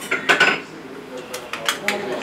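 An old Ottoman-era bowl being handled, giving several light metallic clinks and knocks in two short clusters, close and fairly clear, with no voices.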